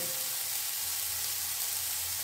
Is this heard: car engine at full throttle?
no